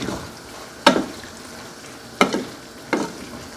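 Ground meat seasoned with pepper and garlic salt is stirred in a pan over a low sizzle, with three distinct scraping strokes of the spoon against the pan, heard up close.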